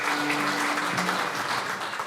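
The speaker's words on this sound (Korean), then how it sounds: "박수로 환영해 주십시오" Steady, dense applause fills the hall from an audience welcoming guests at a founding assembly and inauguration ceremony, continuous and loud throughout with a faint tone underneath.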